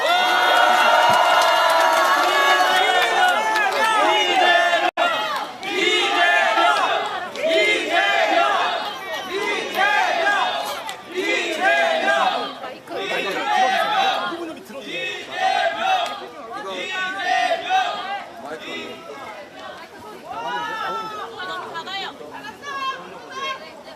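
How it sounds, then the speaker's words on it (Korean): A crowd at an outdoor political rally in Songpa and Jamsil cheers and shouts loudly, with rising whoops and overlapping voices sustained throughout and no distinct clapping standing out. "큰 박수 부탁드립니다"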